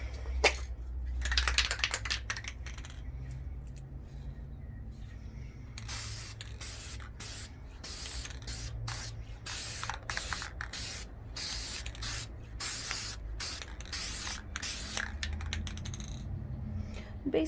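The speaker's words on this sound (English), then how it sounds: "you're going to start off with your frosted glass paint, and you're going to hit a light layer on the outside and the inside" Frosted glass spray paint is sprayed onto an LED prop in a string of short and longer hissing aerosol bursts, close and fairly loud, with brief gaps and light handling noise between them.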